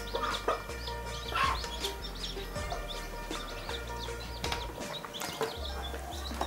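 A brooding hen sitting on hatching eggs gives low, repeated clucks over a steady low electrical hum, with sharp clattering knocks scattered through, close and without speech.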